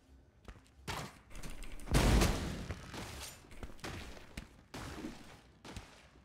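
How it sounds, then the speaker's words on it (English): Bursts of video game gunfire come in uneven clusters, loudest with a heavy boom about two seconds in, then scattered shots and thuds fading in and out, with no talking. "Who the hell's shooting?"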